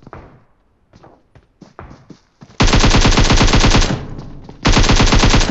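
In PUBG Mobile, a few scattered footfalls and thumps, then two loud, sustained bursts of rapid automatic gunfire close by.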